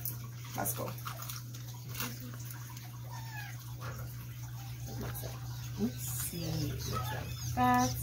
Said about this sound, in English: if you hear something in the background, please ignore it. We just got a puppy.